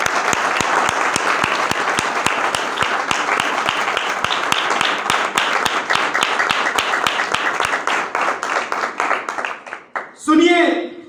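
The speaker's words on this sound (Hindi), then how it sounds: "जोरदार तालियां" Congregation at a church sermon breaks into loud, dense applause with sharp individual claps, sustained for about ten seconds before tapering off, ending with a brief burst of voice.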